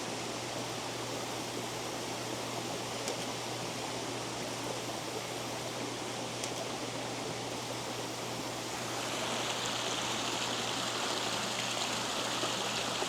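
Steady rushing of an urban waterfall, a continuous broadband wash of falling water, fairly close and even, with a slight brightening in the later seconds and no voices.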